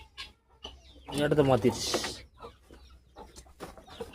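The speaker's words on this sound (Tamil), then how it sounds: "வெள்ளைக்கோழி முட்டை போட்டிருக்கா?" Chickens cluck and squawk close by, a short burst of hen calls rising in the middle, with a person talking quietly around them.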